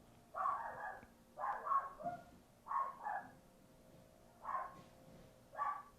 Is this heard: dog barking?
yes